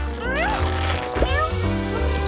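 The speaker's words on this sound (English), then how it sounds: "And the sneaky cat." Cartoon cat meowing in the cooking game Tasty Makeover, a few short rising and falling meows heard over steady game music.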